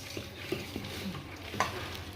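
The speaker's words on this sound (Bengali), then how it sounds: "সর্ষের তেল দিয়ে এখন আমি পেস্টগুলোকে ভালো করে মেখে নেব" Spice pastes are worked together with mustard oil for handi mutton, making soft, irregular squelching and scraping strokes, close and quiet, with a few sharper taps and no voices.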